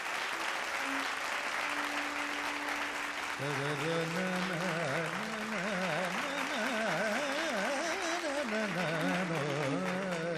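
Sustained applause from a concert audience welcoming the singer onstage, dense and steady throughout, with sung or instrumental tones rising over the clapping partway in.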